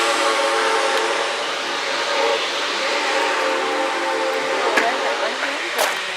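Southern Railway 2-8-0 steam locomotive No. 630 arriving at Grand Junction, a steady loud rumble of the engine and train rolling close by, with brief sharp whistle-like accents near the end and faint voices in the background.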